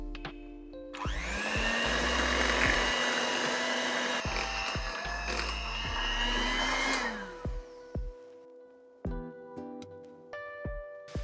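An electric mixer runs on low speed through fruit cake batter with strained fruit, a steady humming motor whine lasting several seconds before switching off, followed by scattered clinks and handling sounds.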